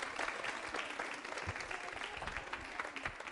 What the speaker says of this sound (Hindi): चलिए तालियां बजाइए इनके लिए जोरों से